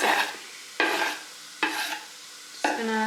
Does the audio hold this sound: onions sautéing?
yes